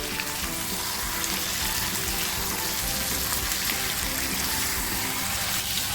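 Small fish (motka) fry in oil in a pan, a dense, continuous crackling sizzle that stays loud and close throughout, with no voices.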